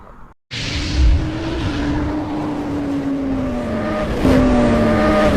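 Royal Enfield Guerrilla 450 motorcycle engine running close by, a loud steady drone whose pitch slowly sags, then a sharper rev near the end, after a brief silent gap at the start.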